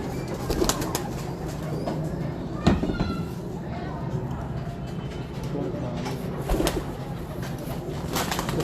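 Soft cooing from pigeons kept by a pigeon fancier runs under a busy outdoor wash of noise, with occasional sharp bursts and faint people's voices in the background.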